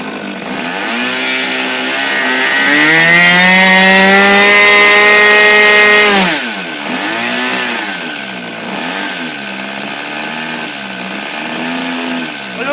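A small engine on a Prima aircraft runs during an engine test, revving up to a loud, high, sustained buzzing whine and then dropping back to a lower, wavering idle.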